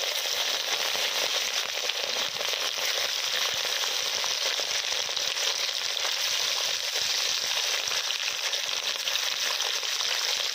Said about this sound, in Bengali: এবার মাছের কড়াতে এখনো মাছ ভাজা হচ্ছে